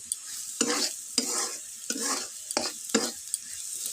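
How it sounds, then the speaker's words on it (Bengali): Dried red chili powder frying in oil in a pan for an egg dish, a steady close sizzle broken by several sharp stirring scrapes of a spatula at regular intervals, with no talking. "ভালো মতন ভাজে নেব শুকনো লঙ্কার গুঁড়ি"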